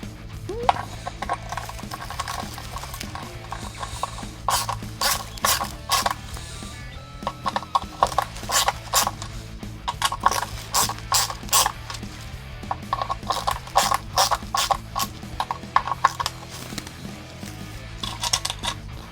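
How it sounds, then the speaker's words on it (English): Screws are driven into the back of an EVH Wolfgang guitar, with bursts of rapid clicking ratchet-like turns coming in repeated runs against quiet handling noise. "So I'm going to take one of the long screws and just put it into the back."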